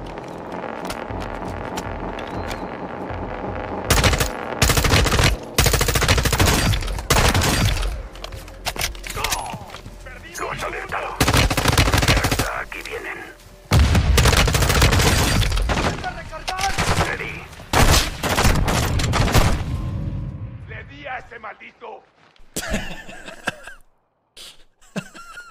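Automatic weapon fire in Call of Duty Modern Warfare 2, loud sustained bursts of rapid shots broken by short gaps, tailing off into quieter scattered sounds near the end.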